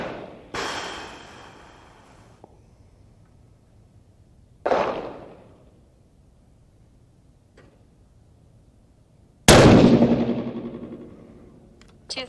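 A 6.5 PRC rifle loaded with IMR7828SSC powder fires three loud, sharp shots several seconds apart, each blast decaying into a long ringing echo, with a fainter click between them.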